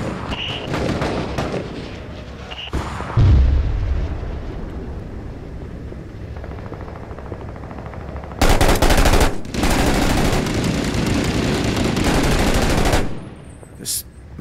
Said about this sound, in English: Machine gun's actually a lot easier to use than I expected it was going to be